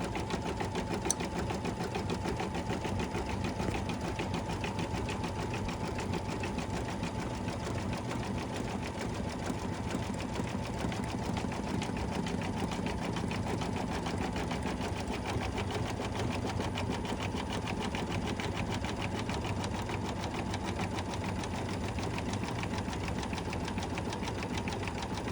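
A sewing machine stitches fabric for a quilted mug rug, a steady and fairly quiet mechanical whir with a fast needle rhythm that runs without a break, and no one speaks.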